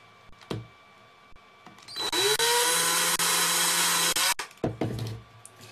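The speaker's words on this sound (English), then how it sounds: "when I'm drilling for the switch, particularly in this box mod, I won't drill it dead centre" A power drill bores a switch hole in a box mod case. The motor whines loudly and steadily for about two seconds with no talk, between short handling knocks before and after.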